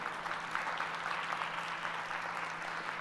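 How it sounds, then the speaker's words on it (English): Faint, continuous applause from an audience at an author conference session, a soft wash of many hands clapping at a steady level with a low hum underneath and no talk. "Big round of applause for Adam."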